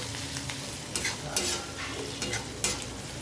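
Spoon stirring cumin and coriander powder into a sizzling garlic masala for a Bengali okra dopiaza, steady frying hiss with a few soft scraping clinks against the pan, close up and alone.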